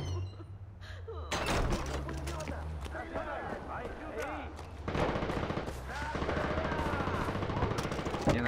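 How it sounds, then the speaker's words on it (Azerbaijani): Gunfire in a Far Cry shootout, with rapid bursts of shots that run continuously and loudly over several seconds, broken by a brief lull and then more bursts, with a voice talking over it. "Yine atışma başlıyor işte"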